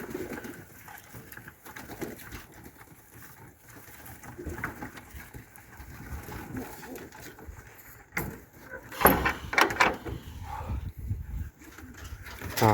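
Pigeons cooing and fluttering near at hand during an evening feeding in a dovecote, with soft wing flaps and pecking patter. A burst of wingbeats comes toward the end, and a quiet voice is heard now and then.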